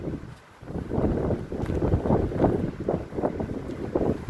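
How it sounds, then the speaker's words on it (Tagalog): Strong wind roars steadily into the microphone on a high beach hillside at Kandingon Beach, a loud, continuous buffeting rumble with gusts swelling and easing throughout. "Lakas ng hangin guys, narinig yung ugong."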